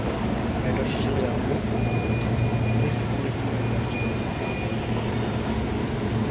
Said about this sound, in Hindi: ऐसा कुछ नज़ारा है अभी सुबह सुबह मेट्रो स्टेशन कश्मीरी गेट का।